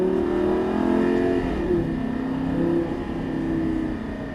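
A Lamborghini Gallardo accelerates in the racing video game Actua GT, its engine note climbing through gears in a steady, continuous, moderately loud drone with slight pitch shifts.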